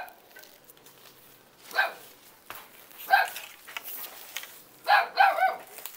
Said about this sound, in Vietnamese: con chó nó sửa hoài